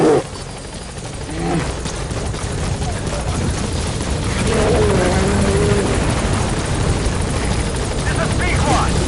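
Pequod helicopter arriving at a landing zone in Metal Gear Solid V, a loud steady rotor drone filling the whole clip, with radio-style voices speaking over it.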